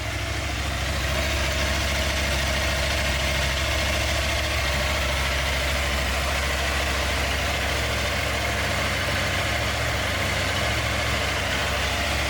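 A KTM motorcycle engine idling smoothly and quietly, a steady low hum that continues unchanged throughout with no other sounds.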